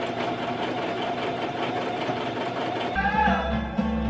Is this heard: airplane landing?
no